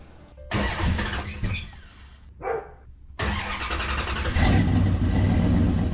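A car engine turns over and catches, then revs in mid-pitched bursts with a brief squeal, rising to a louder sustained roar toward the end; close and loud, with no talking.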